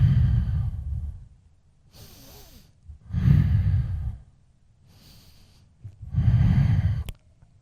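Slow, deep breathing during a yoga breath-retention exercise, with three loud inhale-exhale cycles in a steady rhythm, each breath close and heavy against quiet room tone.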